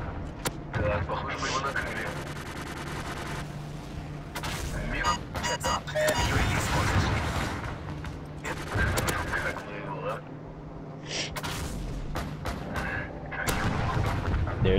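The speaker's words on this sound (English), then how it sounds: "There's my AC-130" In Modern Warfare 3 an AC-130 gunship fires in repeated heavy booming cannon blasts and bursts of gunfire, loud and irregular, with a voice talking between the shots.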